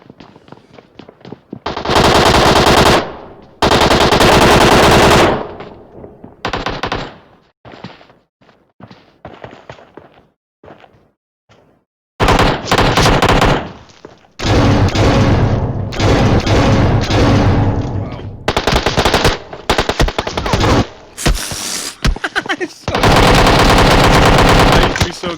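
Rapid bursts of gunfire from a shooting video game, loud and close, with long sustained volleys of automatic fire separated by short gaps and scattered single shots, the heaviest stretches filling the second half.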